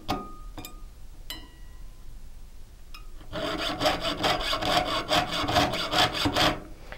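A hand saw cuts sheet metal with rapid, steady back-and-forth strokes, loud and close, following a few sharp isolated taps and scrapes.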